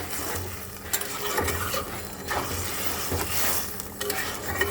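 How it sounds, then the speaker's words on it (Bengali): Spice powder is stirred into a simmering fish curry in a pan, with a continuous bubbling sizzle and scraping stir strokes, close and steady, with no talking. "এবার একটু মিক্স করে দেবো"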